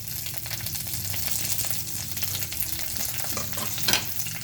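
Mustard and cumin seeds fry in hot oil over a low flame for a tadka, giving a steady close-up sizzle with scattered tiny pops and crackles and one brief louder spatter.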